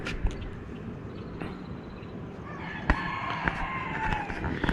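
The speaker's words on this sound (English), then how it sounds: "the musical opera by these fair few chickens down here somewhere" Chickens near a beach at Puerto Angel, Oaxaca, crow and cluck at a distance in an early-morning outdoor setting, sharp calls rising over a soft ambient background, growing busier toward the end.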